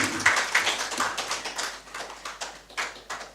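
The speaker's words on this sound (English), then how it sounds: "I believe the chairman and the committee deserve another round of applause" An audience applauds the chairman and committee at a formal national economic dialogue report event, a sustained run of loud, dense clapping heard up close without speech.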